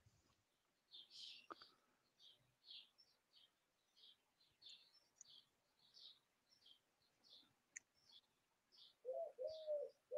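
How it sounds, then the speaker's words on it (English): A wood pigeon coos softly and far off in the English countryside, with a repeated run of faint calls, small chirps around it and a slightly louder final cooing phrase. "I think it's called a woodland pigeon, is what you hear occasionally there."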